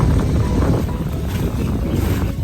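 Wind rushing steadily over a microphone while sailing a small sailboat, a constant low buffeting roar with faint water sounds and no talk.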